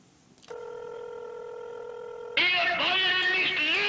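Touch-tone telephone dialing: a long steady tone, then a quick run of overlapping keypad beeps as a real phone number is dialed, fairly clean and close.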